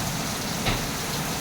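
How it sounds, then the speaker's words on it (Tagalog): Rainy-season rain in Quezon City falling as a steady, even wash of hiss and patter, fairly loud and continuous, with no voices. "Ayan ang ulan, mga friends."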